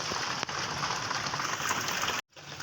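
Steady rain pours down in Nalco Nagar, a dense, even hiss filling the scene for over two seconds before cutting off abruptly near the end.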